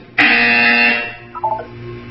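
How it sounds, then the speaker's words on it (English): A loud, flat electronic buzzer from the video game Portal blares for about a second, then a few softer tones follow. "You will hear a buzzer."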